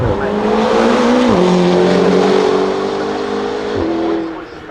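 A McLaren P1 hypercar's high-revving engine roars loudly and continuously as it accelerates, its pitch climbing steadily with brief dips at gear changes, close and dominant.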